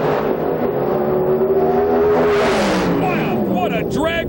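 A loud roar of Pro Stock drag racing engines at the 2005 IHRA Rocky Mountain Nationals climbs, then sweeps past and fades, with a commentator's voice talking over it.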